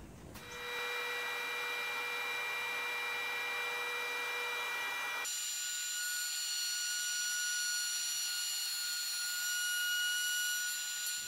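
A power tool makes a test cut in a 9 mm board for a frame-and-panel planter box. Its motor whines steadily and loudly, and the tone shifts sharply higher halfway through before holding steady to the end. No talking is heard.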